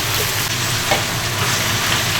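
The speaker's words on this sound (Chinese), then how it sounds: "酸菜下锅" Pickled cabbage, going in for a beef steak hotpot, fries in a pot with hot oil, giving a loud, close, steady sizzle and crackle under occasional faint stirring, no voices.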